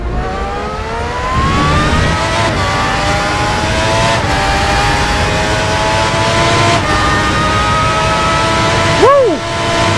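FR X-90 V12 race car from RaceRoom Racing Experience, lapping Paul Ricard short circuit, its engine screaming at high revs for the whole stretch with brief dips at gear changes and a sharp downshift burst near the end, with voice commentary over it.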